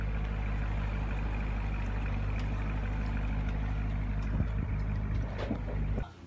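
A 2016 Corvette being unloaded from a transport truck, its engine running steadily with a low, loud rumble throughout and a few clanks near the end before the sound drops off.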